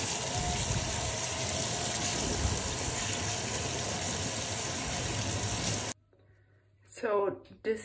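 Strong water runs from a tap while a sock is washed with generic dishwashing liquid, a steady loud rushing gush that stops abruptly, followed by a quiet room and a voice speaking.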